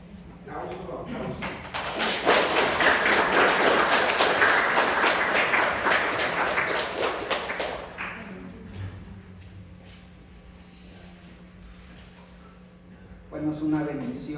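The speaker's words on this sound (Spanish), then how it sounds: "Aplauso." An audience at a Spanish-language church gathering claps in a burst of applause that swells for several seconds and then fades, followed by quieter room sounds and a voice returning.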